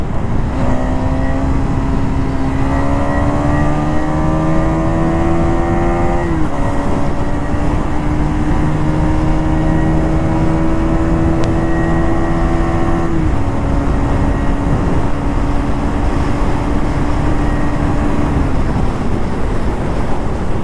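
A KTM Duke 250 BS6 motorcycle engine revs on an open road, its loud, steady note climbing in pitch, dropping briefly at each of three gear shifts, then climbing again.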